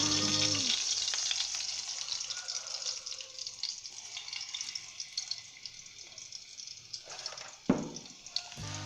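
Garlic fries in oil in a pan for white brinjal masala, a steady light sizzle running throughout with a sharper pop of louder crackle near the end.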